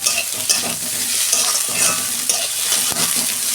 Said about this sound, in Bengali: বন্ধুরা, পেঁয়াজ আর টমেটো আমি একসঙ্গে ভেজে নেব